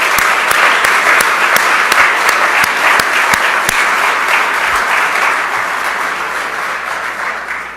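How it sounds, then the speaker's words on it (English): Loud, full applause from an audience at the grand opening ceremony of a new manufacturing innovation hub, with dense clapping and a few sharp nearby claps that slowly taper over several seconds. "Let's give a round of applause."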